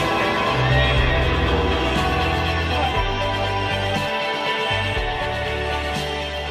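A horse whinnies loudly over a dense, busy background, the call drawn out and close, with low rumbling noise throughout.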